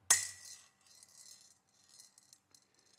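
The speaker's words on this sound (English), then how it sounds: "I'm going to drop one BB into this metal bowl" A single BB drops into a metal bowl with one bright metallic ping, followed by quieter rattling and rolling tinkles that fade out over a few seconds, close and faint in a quiet room.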